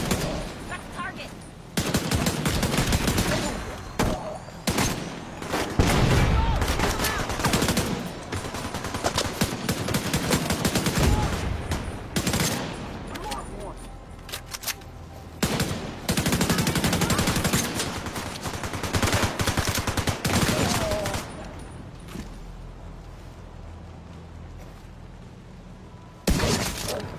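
Loud, sustained gunfire in The Division 2 video game: rapid automatic bursts and heavy shots with shattering impacts over nearly half a minute, barely pausing.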